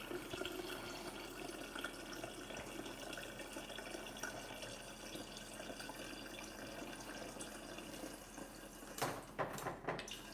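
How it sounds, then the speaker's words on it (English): Tap water pours steadily into a cooking pot for spaghetti meat sauce, a continuous rushing fill with faint splashing, ending in a few brief clatters near the close. "That's enough water in there."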